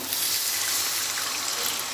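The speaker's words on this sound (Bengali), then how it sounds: "অল্প পরিমাণে জল দিয়ে দিলাম।" A small splash of water poured into a pan holding a yogurt-based okra dish with pre-fried okra: a steady, close hiss of trickling liquid that runs evenly for a couple of seconds with no talking.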